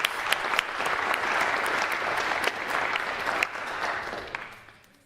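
A crowd applauds at an annual church meeting, a steady burst of clapping held for several seconds before tapering off, moderately close with distinct individual claps.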